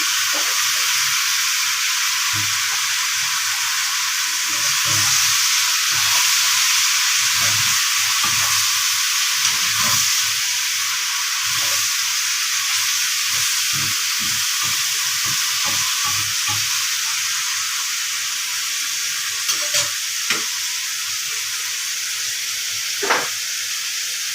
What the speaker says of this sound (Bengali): উস্তাগুলো দিয়ে দিলাম, একসাথে ভাজা হয়ে যাক